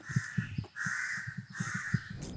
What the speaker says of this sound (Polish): Kracące wrony, psy za nami.